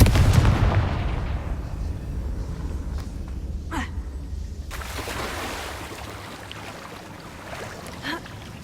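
Fiery Confringo spell blasts in Hogwarts Legacy: a heavy, booming explosion at the start that rolls off into a long rumbling wash, with a whooshing streak in the middle and a smaller burst near the end.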